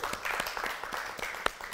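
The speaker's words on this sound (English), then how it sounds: "Clap for the Lord." A church congregation clapping for the Lord during a worship service, a brief burst of scattered, moderately distant applause with faint voices underneath.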